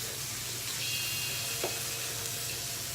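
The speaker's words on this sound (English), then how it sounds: "I see that my cheese is like getting a little fry to it" Parmesan cheese frying in a pan with spinach, giving a steady close sizzle with faint crackles and a single soft tap midway.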